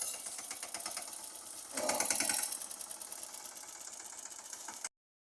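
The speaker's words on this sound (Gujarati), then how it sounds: "આપણા ઋતિકભાઈ બેઠા છે ટ્રેક્ટરમાં ને રાપ મારવાનું શરૂ થઈ ગયું છે" A tractor drives a groundnut thresher at harvest, its engine a steady, fairly faint mechanical chugging that swells briefly midway and then cuts off abruptly near the end.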